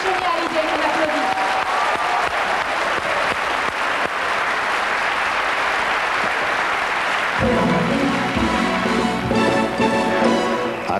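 Audience applause on a 1988 French television tribute show, steady clapping that gives way to music with singing partway through.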